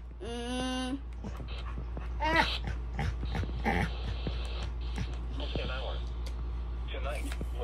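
Puppies whimper in high, wavering whines, one longer cry at the start and another short one a moment later, close and fairly loud amid scattered clicks, handling noise and a voice talking.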